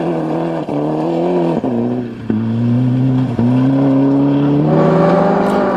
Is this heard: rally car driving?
yes